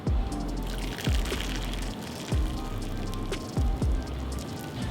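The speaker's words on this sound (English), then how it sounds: "So with the boiling water, you're going to want to fill up to almost halfway on each of the containers that you have in front of you." Boiling water poured into crème brûlée ramekins in a kitchen, several short splashing pours spaced about a second apart, close and fairly quiet with no talking.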